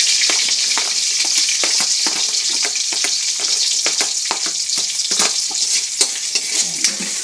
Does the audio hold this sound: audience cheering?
no